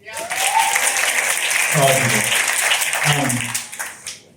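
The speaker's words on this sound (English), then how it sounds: "Clap if you flew in." A crowd at a comedy show during a lawyers' conference claps in a steady burst, with cheers and voices mixing in and the applause tapering off at the end.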